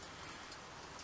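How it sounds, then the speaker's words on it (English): Steady rain falling on a surface outdoors during winter fishing, a constant dense hiss with faint scattered drop ticks and no voices. "Excuse the rain, can't turn that off."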